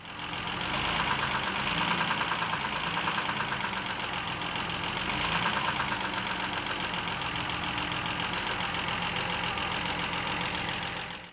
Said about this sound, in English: start the engine and just let it idle, and just rev the engine a little bit, say just about 1000 RPM